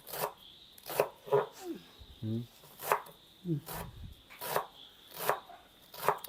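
Pumpkin and ash gourd leaves being chopped with a knife on a board, about nine sharp, evenly spaced cuts in a steady rhythm, close and clear, with faint background noises between strikes.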